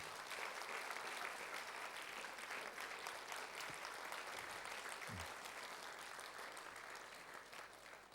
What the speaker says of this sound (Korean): 다시 한번 박수 한번 쳐주시기 바랍니다